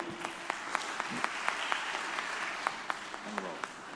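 Audience applause at a university personal branding talk, steady clapping with sharp individual claps standing out as a voice speaks over it.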